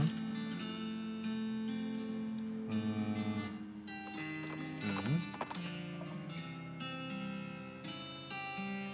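Steady clip-clop of horse hooves along a trail in a video game, with an occasional neigh and faint birdsong over layered game music, no talking.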